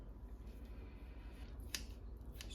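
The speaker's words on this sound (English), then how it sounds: "Just trimming off the fat." Scissors trimming fat off raw chicken thighs, a few faint close snips and clicks over a low rumbling background.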